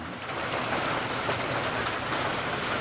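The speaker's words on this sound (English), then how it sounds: "Then it started raining again." Steady, dense rain falls outdoors in the countryside during a summer downpour with the sun still out, a close, continuous hiss of drops hitting surfaces with no pauses.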